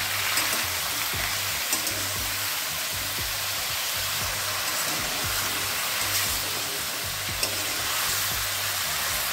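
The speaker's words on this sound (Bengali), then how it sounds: "এবার এই হলুদ লবণটা দিয়ে সবজিগুলো ভালো করে একটু ভেজে নিতে হবে।" Mixed winter vegetables fry in a pan with salt and turmeric, giving a steady broad sizzle with soft scraping stirs throughout, close and alone with no talk.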